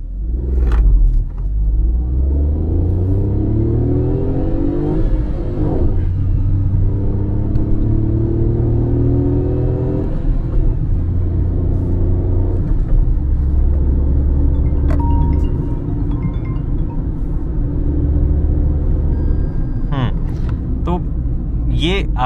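A Tata Tiago iCNG running on CNG pulls away hard from a stop in first gear. The engine drone climbs steadily in pitch, drops back at each gear change, then rises again, loud and close from inside the cabin.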